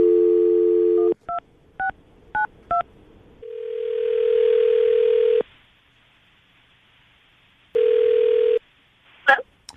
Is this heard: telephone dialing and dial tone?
yes